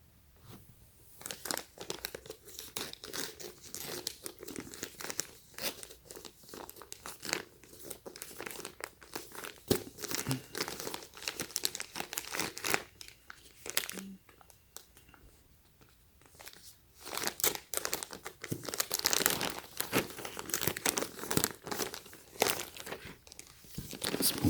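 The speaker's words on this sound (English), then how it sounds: "Unwrap it." A Supreme clothing package from the Spring/Summer 2019 collection is unwrapped, giving a continuous close crinkling and crumpling of wrapping with occasional tearing, busy and uneven throughout.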